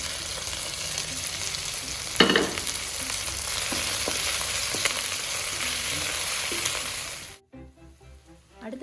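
Green chillies, curry leaves, coriander and mint fry in hot oil for prawn biryani, a loud continuous sizzle with a few scraping stir knocks, cutting off abruptly near the end.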